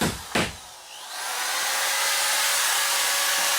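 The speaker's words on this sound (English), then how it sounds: "Kyle's screwing up the board with the screw gun" A screw gun driving screws into drywall board on a ceiling, a short sharp burst up front followed by a steady high whine that swells and holds to the end, fairly close.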